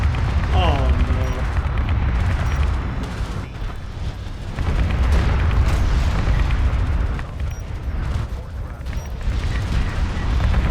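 Bombers attack in the real-time strategy game Homeworld: Deserts of Kharak, with heavy booming explosions and rumbling detonations rolling continuously under excited commentary.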